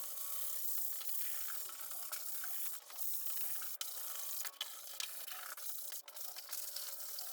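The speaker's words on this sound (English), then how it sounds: "I'm going to take my sanding block and scuff the entire surface of the door." A sanding block scuffs across the surface of a door being prepped for Rustoleum paint, giving a quiet continuous rasping rub with a few short sharper scrapes and brief pauses.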